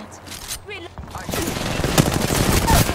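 Gunfire in a video game: rapid automatic bursts and shots that grow louder and denser, with excited voices talking over them.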